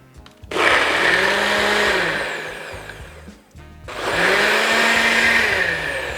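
A Ninja BlendBOSS blender runs its Smoothie IQ program, motor loudly whirring and churning through a watermelon bubble gum blend in two long bursts separated by a brief pause, with pitch shifting as the load changes.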